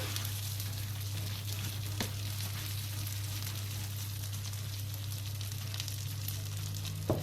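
Three glasses of rice browning in a pan for pilaf give off a steady, dense sizzle and crackle up close, continuous throughout with a low hum underneath and occasional faint stirring clicks.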